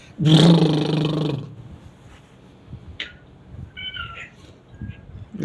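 A person imitates a cat's meow with a loud, drawn-out voiced call lasting about a second, followed by quieter rustling, faint clicks and small sounds.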